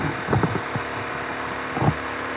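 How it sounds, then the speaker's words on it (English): A 2022 Cruze Wicked 50cc four-stroke gas scooter idles high just after a cold start, a steady close engine drone with a few soft low thumps. "Runs on high idle for a minute. Once it warms up, the idle will slow down."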